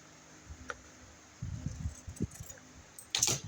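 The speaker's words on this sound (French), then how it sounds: "je tire un peu le tissu pour pouvoir le couper sans l'abîmer de trop" Fabric pulled taut and cut for a handmade photo album, soft low rustling and tugging followed by a brighter snipping burst at the end, close and fairly quiet with no talking.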